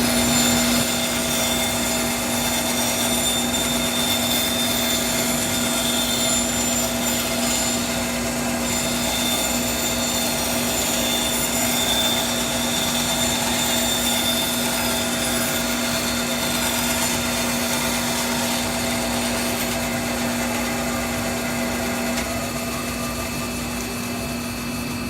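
A Rikon 10-inch bandsaw cuts a circle on a circle cutting jig, giving a loud, steady whining hum that continues unbroken, with no voices.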